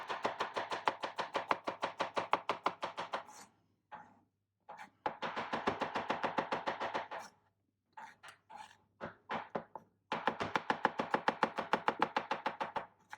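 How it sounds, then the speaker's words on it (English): Knife chopping ingredients for moules frites on a cutting board, rapid even bursts of crisp taps in three long runs, with short scattered strokes and pauses between them, close and clear. "So now it's all chopped"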